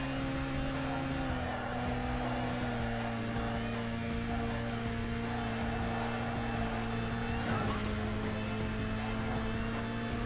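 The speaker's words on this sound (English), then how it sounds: "Pretty much anywhere we're gonna be bouncing off the rev limiter" A race car engine in the Burnout video game, revving hard and held against the rev limiter in a constant, loud, buzzing drone with a steady hum underneath for the whole stretch.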